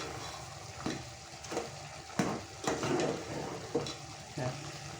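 Chicken masala stirred in a sizzling frying pan, with a spoon scraping and clanking against the pan in several separate strokes over a steady, close frying hiss.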